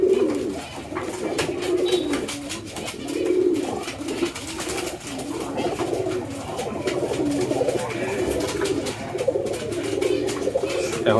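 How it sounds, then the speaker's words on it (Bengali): Pigeons coo repeatedly inside a chicken cage on a poultry farm, soft rolling calls overlapping in a steady rhythm at close range, with faint rustling and clicks behind them. "অনেকে ভাবতে পারেন যে মুরগির খাঁচায় কেন জানি কবুতর রাখছিলাম।"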